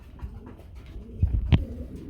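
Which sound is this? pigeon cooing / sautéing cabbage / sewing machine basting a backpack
pigeon cooing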